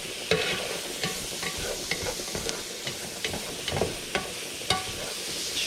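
Pasta cooking in a pan for a tuna carbonara, a close sizzle with frequent clacks and scrapes of a utensil stirring against the pan in an uneven rhythm, no speech.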